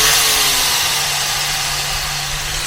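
A power grinder runs steadily while sharpening the edge of a wood chipper blade, a continuous loud motor drone with a constant hum and broad hissing grind throughout, no speech.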